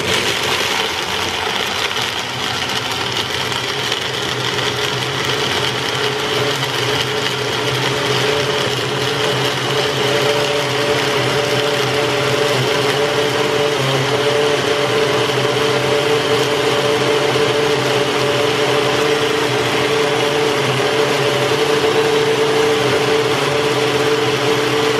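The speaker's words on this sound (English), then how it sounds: "I blend up a little bit more, I need a little more blending." A blender whirs steadily through a macadamia nut recipe, a loud constant motor drone with a high whine that holds without pause for the whole stretch, no voices over it.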